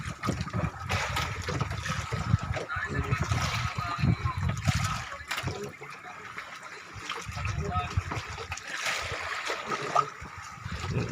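Crude oil poured in a steady trickle into a makeshift fuel stove during outdoor survival cooking, a close splashing dribble that rises and falls, with voices talking in the background.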